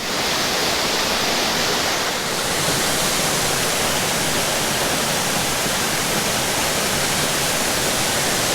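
Lower Lilydale Falls in Tasmania pours down with a log wedged beneath the drop. It gives a dense, unbroken roar of falling water, loud and close, with no voices over it.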